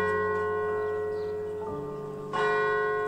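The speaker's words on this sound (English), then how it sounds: "The bell is in a medieval bell tower here in my village." A church bell strikes from a medieval bell tower in a Tuscan village, its sustained metallic ring humming steadily before a fresh, louder stroke near the end, heard alone without voices.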